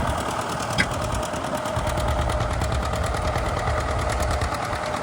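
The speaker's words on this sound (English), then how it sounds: "So here's a tractor like mine, John Deere 730 diesel." A John Deere 730 diesel tractor pulling a disk runs steadily at close range, a loud continuous rhythmic engine chug with no breaks, one brief knock early on.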